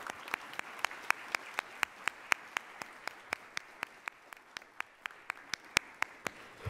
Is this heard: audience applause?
yes